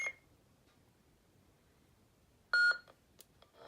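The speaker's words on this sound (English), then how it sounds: "at the second beep, release to switch sound fonts" Two short electronic beeps from a small device with switchable sound fonts, one at the very start and another after a pause, against near silence, followed by faint clicks.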